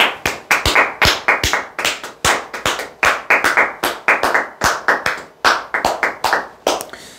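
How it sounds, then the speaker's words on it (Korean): Listeners at a talk on insurance telemarketing clap together in loud, close bursts of sharp hand claps, with irregular rhythm across several seconds and no voices over them. "박수 한번 칩시다."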